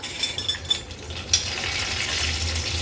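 Curry leaves hiss and crackle in hot oil with mustard seeds and cumin for a tempering, a close, steady sizzle with a few sharp pops early on and no voices.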